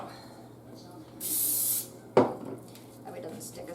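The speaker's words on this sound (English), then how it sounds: "what I'm going to do is spray my spoon" A short hissing burst of cooking spray onto a spoon, followed by a sharp clink of the utensil, with quiet background room noise.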